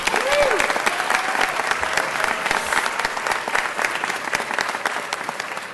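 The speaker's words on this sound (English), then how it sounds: "You can applaud for Sophia." Loud, sustained applause from a city council meeting audience honoring the Executive Director of Arts for LA, dense clapping throughout with a brief whistle near the start and murmuring voices underneath.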